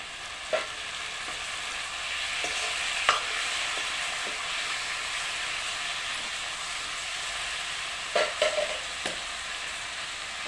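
Tomatoes frying in hot oil in a pan, for a curry with raw pigeon peas. A continuous hissing sizzle runs throughout, broken by a few brief spoon taps and scrapes as the mix is stirred, close up.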